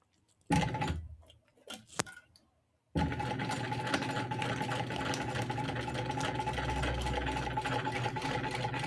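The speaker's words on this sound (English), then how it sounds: "so you can see the sewing" A sewing machine runs steadily while stitching a bag seam, a continuous close mechanical whir with fast rhythmic ticking, preceded by a few brief knocks and handling sounds before the motor starts.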